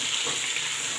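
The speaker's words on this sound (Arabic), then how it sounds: "نقلب. نقلب كده" Fava beans with onions sizzle and fry in a pan while being stirred, a short steady close hiss.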